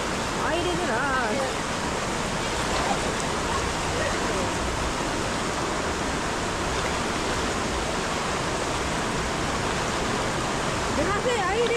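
Strong, rushing stream water roars loud and steady at a campsite, a dense, unbroken wash of noise that fills the whole stretch.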